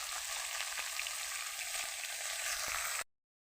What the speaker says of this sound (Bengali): বাঁধাকপি দিলাম, পালং দিলাম, সব কিছু মটরশুঁটি, আলু,